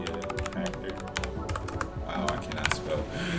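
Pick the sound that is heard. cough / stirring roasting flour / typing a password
typing a password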